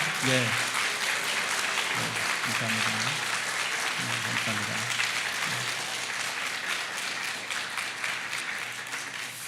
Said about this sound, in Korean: 우리 환영의 박수 한번 치면 좋겠습니다